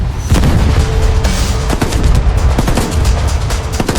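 Tank guns and battle effects in a WWII toy-soldier recreation of El Alamein, with a Panzer IV engaging Shermans: a dense, loud, continuous barrage of gunfire and booms with sharp bursts throughout, no voices.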